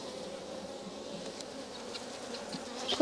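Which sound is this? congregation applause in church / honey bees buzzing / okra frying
honey bees buzzing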